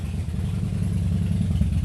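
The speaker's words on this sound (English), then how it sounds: "That's John's motorcycle." A motorcycle engine idles with a steady, low, throbbing rumble, close and continuous without changing pitch.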